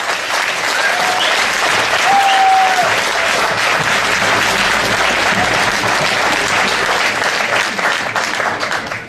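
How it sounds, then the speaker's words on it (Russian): A conference audience in Moscow applauds loudly and steadily as a speaker is invited onto the stage, the clapping sustained for the whole stretch and fading slightly at the end. "я под ваши бурные аплодисменты приглашаю на эту сцену Брэндона Пэттона"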